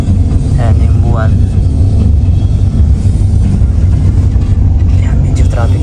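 Road traffic rumbles continuously nearby as a steady low wash of passing vehicles, with brief higher squeaks here and there, while a person talks over it.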